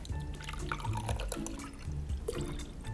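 Distilled water is poured for a homemade Victorian hair-care recipe, with busy splashing, trickling and dripping running continuously at close range.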